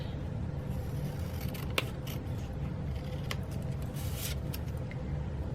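Scissors trimming craft material for a mouse-family Valentine's project, giving a few quiet crisp snips spaced apart over a low steady background hum.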